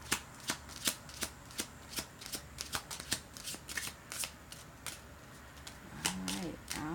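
Cards being shuffled in quick crisp riffles, a series of sharp fluttering bursts close by, with a brief low murmur near the end.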